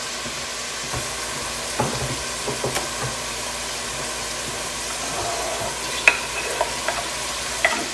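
Ground beef, an 80-20 blend, cooks in a pot for three-bean chili, giving a steady low sizzle with occasional soft scrapes and clicks of stirring throughout.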